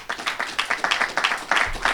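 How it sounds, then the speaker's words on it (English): An audience at a 2020 fall collegiate athletic recognition ceremony applauds an honoree. The claps come as a fast, regular, close series of sharp bursts with no voices over them. "Let's all give Timmy a round of applause."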